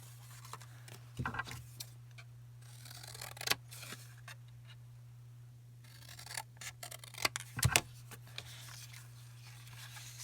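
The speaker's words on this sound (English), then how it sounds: "Obviously, it's too big, so we're going to have to cut it down." A greeting card being trimmed down with scissors or a cutter, giving faint scattered snips and rustles of card over a steady low electrical hum, with a busier cluster of cuts near the end.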